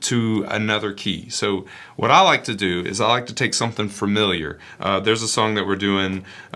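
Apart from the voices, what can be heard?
No everyday noise stands out behind the speech.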